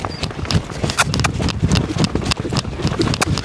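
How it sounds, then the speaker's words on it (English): Hooves of a young colt on its fifth ride under saddle, loping to the left: a steady rhythmic clip-clop of footfalls, near and fairly loud, with light wind noise and no talk. "Let's go try loping to the left."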